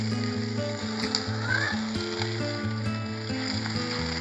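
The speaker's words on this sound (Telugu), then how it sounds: "ఒకసారి ఇది ఓపెన్ చేసి చూసుకుందాం. ఒకసారి మంచిగా కలుపుకొని" Prawn curry being stirred in a pan, giving a steady sizzle and soft scraping under a continuous background of tonal music.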